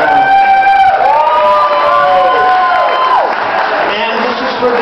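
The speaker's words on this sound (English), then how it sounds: "if you could give her a round of applause" Crowd noise with cheering at a live karaoke competition finals in B.C., loud and sustained throughout, with sustained tones and gliding pitches over it.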